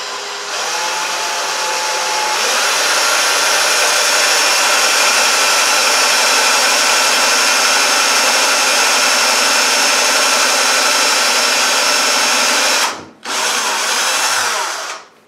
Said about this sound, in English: I'm going to drill through the back over this way